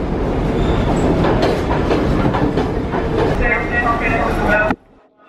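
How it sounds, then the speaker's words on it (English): A subway train running on rails, a loud continuous rumbling clatter with faint squeals near the end before cutting off abruptly, with some voices mixed in. "We're currently on the train."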